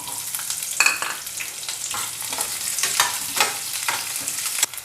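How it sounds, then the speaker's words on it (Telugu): Onion and chana dal fry in hot oil, a close, bright sizzle with crackling bursts and a few stirring scrapes, steady and fairly loud throughout. "ఇప్పుడైతే ఉల్లిగడ్డ వేగుతా ఉంది కదా"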